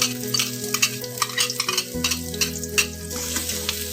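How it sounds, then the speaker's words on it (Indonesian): Garlic, onion and shallots sautéing in a little oil in a hot pan, a steady close sizzle with repeated scraping stirs of a utensil. "Tumis sampai harum."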